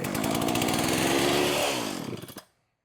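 A Partner chainsaw with a carburetor problem runs with a loud, raspy two-stroke drone close by, then bogs and sputters, its pitch dropping before it cuts out into silence.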